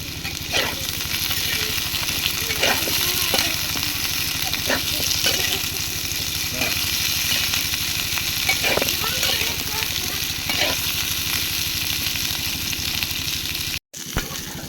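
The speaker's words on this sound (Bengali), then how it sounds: "পটল এবং আলু ভাজা হয়ে গেছে ভালো করে ভাজা নিচ্ছে" Steady sizzling of pointed gourd and potatoes frying in oil, with occasional stirring scrapes and a low engine-like hum in the background, and someone speaking at times.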